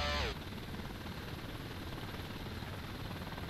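A helicopter in the video game Thunder Helix flies steadily, its rotor and engine making a continuous droning whir that stays moderately loud and even throughout, with a brief sweeping whine at the very start.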